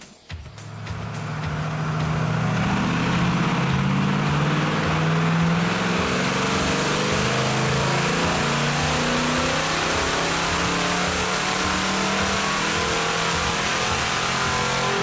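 Naturally aspirated C8 Corvette with a Wilson intake running on E85 on a chassis dyno, its engine revving hard and rising in pitch, a loud sustained mid-range roar that holds steady near the microphone with no talking.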